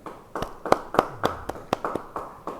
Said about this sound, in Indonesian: Yang percaya beri tepuk tangan sekali lagi.